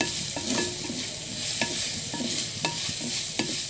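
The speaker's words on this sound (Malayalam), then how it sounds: "എന്നിട്ട് നന്നായിട്ട് ഇളക്കണം." Sardine curry with tamarind being stirred in a pan: a spoon scrapes and clacks in a regular rhythm of roughly every half second over a soft, constant sizzle, close by.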